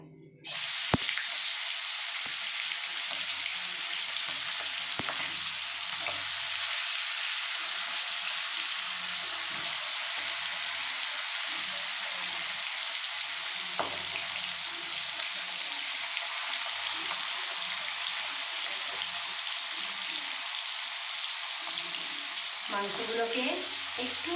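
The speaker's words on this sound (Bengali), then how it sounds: "দেখুন তেল গরম হয়ে গেছে এখন আমি মাংসগুলো ভেজে নেব" Chicken pieces frying in hot oil over a medium flame, giving a steady, dense hiss that runs unbroken for over twenty seconds, with only a few faint clicks beneath it.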